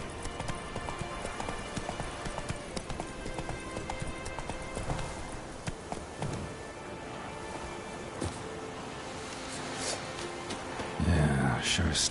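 Roach the horse trots along in The Witcher 3, hooves clip-clopping in a steady, continuous rhythm under ambient game sound, with a heavier thud and shuffle toward the end.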